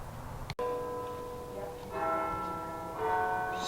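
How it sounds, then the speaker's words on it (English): Church bells ring at a distance, their sustained tones striking twice and ringing out over faint background noise. "you can hear the church bells in the background."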